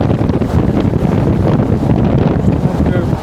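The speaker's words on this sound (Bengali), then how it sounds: "সকালের ঠান্ডা সমুদ্রের হাওয়া" A cold morning sea breeze buffets the microphone beside the coast while riding a train, a loud, continuous roar of wind with rumbling underneath.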